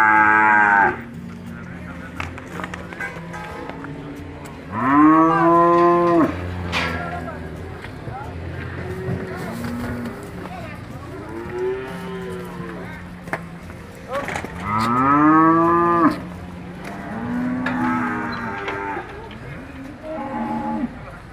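Several large cattle at a cattle market moo loudly and repeatedly, long drawn-out calls rising and falling, close by, with low background rumble between them.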